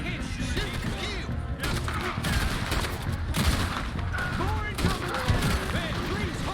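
Gunfire crackles through a Red Dead Redemption 2 shootout, dense bursts of shots overlapping with game dialogue and ambient clatter, steady and loud across the whole stretch.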